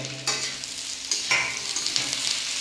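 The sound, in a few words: stirring onions into frying bitter gourd (karela)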